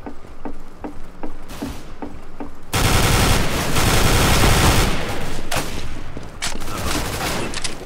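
Gunfire in Counter-Strike: Global Offensive: a few spaced single shots, then a loud sustained burst of rapid automatic fire that continues with short breaks, close and dense.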